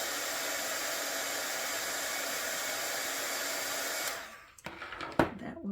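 A heat gun blows hot air over a paperclip craft in a steady, loud broadband whoosh for about four seconds, then cuts off, leaving a few close clicks and handling knocks.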